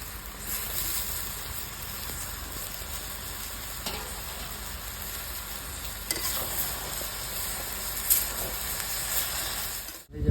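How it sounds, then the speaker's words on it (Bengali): Small cut potatoes fry with cabbage and cauliflower in a pan, giving a steady, close sizzle with occasional stirring scrapes over about ten seconds, no voices. "বন্ধুরা দুটো ছোটো ছোটো আলু কেটেছিলাম আলুটাও দিয়ে দেবো"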